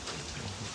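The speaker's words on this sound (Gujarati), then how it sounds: "વરસાદ હજી એમને જ ચાલુ છે" Rain pours down at a cattle shelter housing buffaloes, a brief, steady, close hiss of drops striking surfaces with a low rumble beneath.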